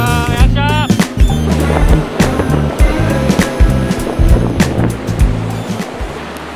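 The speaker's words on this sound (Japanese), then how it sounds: "荒波でございます。" Rough sea waves crash and surge loudly, with heavy rumbling, rhythmic pounding in the low end and hissing spray throughout, close by and with no talking.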